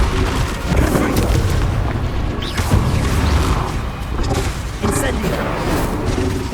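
Confringo fire spell explosions in the Hogwarts Legacy wizarding game burst in loud rumbling booms over a busy, constant mix of combat noise, with voices talking throughout.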